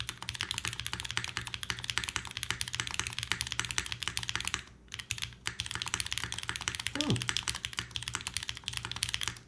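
Fast continuous typing on a Mode Loop TKL mechanical keyboard, dense close clacking keystrokes with one brief pause partway through.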